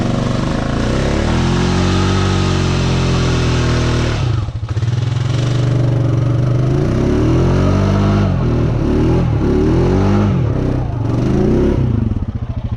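A Honda Rancher 420 ATV engine labors and revs loudly with its wheels spinning in thick mud, a steady close drone that briefly dips and then surges in repeated pulses.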